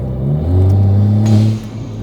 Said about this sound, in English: so you guys can hear the blow-off valve